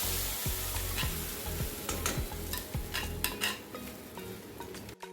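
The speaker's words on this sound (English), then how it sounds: "Now in the same oil add Garam Masala, fry it for a second, then add the mixture." Garam masala hitting hot oil in a pan for methi egg curry, crackling and sizzling loudly up close, with repeated utensil scrapes and stirring taps across the pan before a sudden stop.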